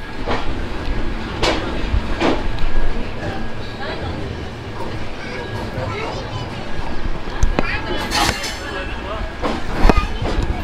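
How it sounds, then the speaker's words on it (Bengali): Hemkund Express pulling out of Katra station toward Jammu, a steady low rumble of the train with periodic clanks and brief squeals over continuous rolling noise, fairly loud and close throughout. "কাটরা স্টেশন থেকে আমাদের হেমকুন্ড এক্সপ্রেস জম্মু উদ্দেশ্যে রওনা দিল।"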